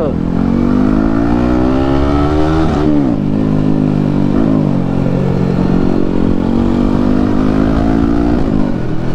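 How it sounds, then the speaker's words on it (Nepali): A motorcycle rides along with its engine droning loud and close, and the pitch rises and falls as the rider shifts and the revs change. Someone talks over the engine noise throughout. "I'm riding his bike right now."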